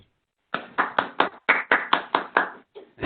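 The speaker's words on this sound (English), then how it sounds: "Round of applause." A few sharp, distinct hand claps in an uneven rhythm, close and isolated against near silence, like a single person or small group applauding at the end of an online seminar.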